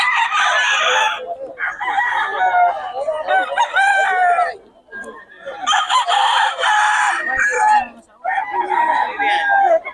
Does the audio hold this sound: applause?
no